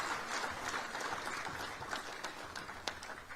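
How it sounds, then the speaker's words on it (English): A crowd claps steadily at moderate volume at a business school building inauguration, a dense patter of hands with a few sharper claps standing out near the end. "Can we give another round of applause?"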